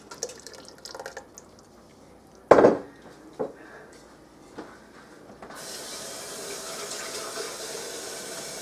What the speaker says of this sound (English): I'm also going to add some of my tomato juice to that.